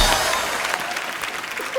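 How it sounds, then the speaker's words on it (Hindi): Studio audience applause on a televised Hindi comedy talk show, a steady dense wash of clapping across the whole stretch, fairly loud and close, with a faint voice rising briefly near the end. "ठोको ताली"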